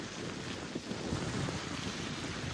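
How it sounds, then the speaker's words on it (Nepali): Waves slapping against the lakeside in Pokhara on a cold, windy night, heard as a continuous rushing wash of water mixed with strong wind noise, steady and fairly loud throughout. "ओए कति पानीको छाल हानेको हौ,"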